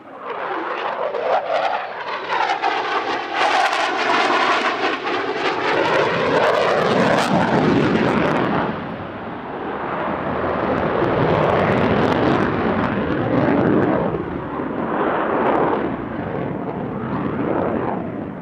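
A Lockheed F-35 fighter jet roars past during an airshow display, a loud swelling engine rumble with a sweeping whine that fades and then builds again as it maneuvers.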